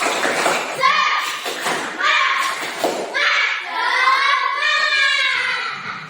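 Schoolchildren in a classroom perform a rhythmic spirit clap, chanting together in bursts punctuated by sharp, patterned hand claps, near and lively.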